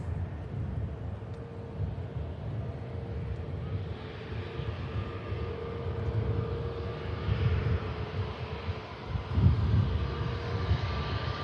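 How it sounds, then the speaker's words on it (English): A Ryanair jet airliner lines up for takeoff toward Copenhagen at Manchester Airport, its engines giving a steady low rumble heard from a distance, swelling slightly toward the end, with some wind noise. "Ryanair getting itself lined up now for Copenhagen finally."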